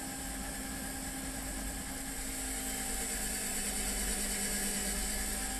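An electric motor drives a landing gear lead screw, giving a steady, continuous mechanical hum with a faint whine that holds level for the whole stretch, with no talking.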